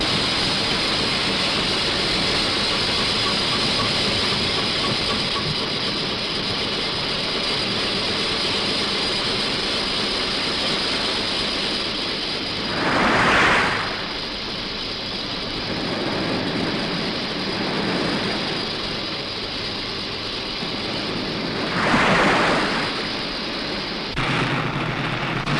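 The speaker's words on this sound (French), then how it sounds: "Réglez les moteurs à 290 tours." Engines of the submarine Casabianca turning at 290 revolutions make a steady, loud, dense mechanical roar that fills the whole stretch without voices, swelling briefly in two short louder surges before settling back to the same drone.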